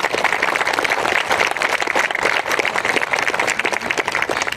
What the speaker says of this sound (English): A round of applause for our superintendent, Dr. Dana Bedden,